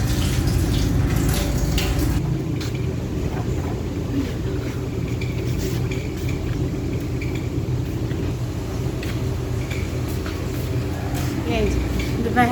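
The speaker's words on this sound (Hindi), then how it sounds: "अब साइड से सिंक वॉश कर देती हूँ" Water runs steadily from a tap while a kitchen sink is washed, a constant rushing wash with dish clatter, loud and close throughout, with a voice speaking over it.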